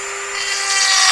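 A power drill bores out a hole in a Coleman Road Trip grill during a conversion project, a short close whine that climbs steadily in pitch and grinding roughness, with no talk.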